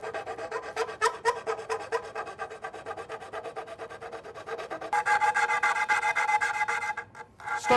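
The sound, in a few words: sanding a wooden yarn bowl with coarse 100 grit sandpaper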